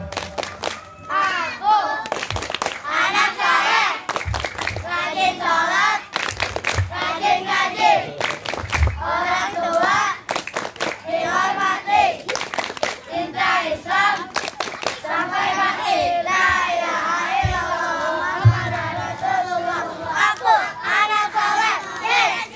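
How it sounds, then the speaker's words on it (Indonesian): Children at an Islamic religious gathering clap a rhythmic pattern along with a loud group chant, their voices shouting and singing throughout as the hand claps keep time close by. "tuh tepuk tangan"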